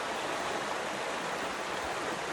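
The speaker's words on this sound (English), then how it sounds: "And this is just one creek, one of the millions of creeks that run down." A mountain creek rushes steadily, giving a dense, even hiss of flowing water heard close and alone, with no voices.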